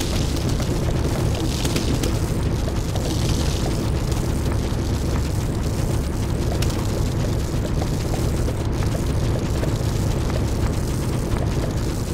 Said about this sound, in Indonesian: efek ledakan talnut saat ditambah apinya